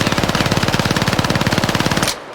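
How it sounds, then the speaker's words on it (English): Sustained automatic gunfire from a video game, sprayed at a wall to test recoil: a loud, rapid, evenly spaced burst of shots lasting about two seconds before cutting off abruptly. "this is what it looks like shooting at a wall"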